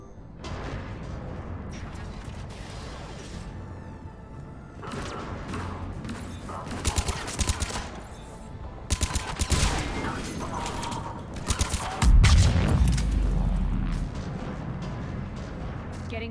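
Heavy booming cannon blasts and mechanical clanking in a Mass Effect 3 game soundscape, with repeated bursts building toward a loud, deep rumble near the end.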